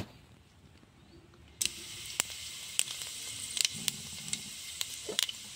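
Cumin seeds hit hot oil for a prawn curry, setting off a sudden steady sizzle after a quiet start, with scattered crackles and pops running close and continuous.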